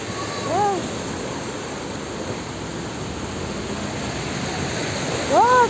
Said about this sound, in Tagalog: Napakalaki ng tubig.